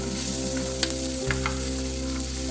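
Potatoes fry in oil in a pan, giving a constant close sizzle with a few soft pops and scrapes over a low steady hum, with no talking.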